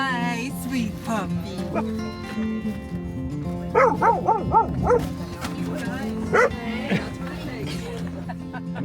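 A rescue puppy at an animal rescue lets out high, wavering whimpers and a few yips in short bursts, close by, amid steady background noise and some speech.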